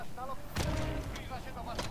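Precision airstrike artillery fire in the video game Warzone, with sharp blasts sounding over mixed game noise and some speech-like sounds nearby.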